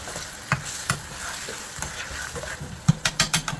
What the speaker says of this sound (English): a little bit of kasuri mati, just a couple of pinches, and that needs stirring in as well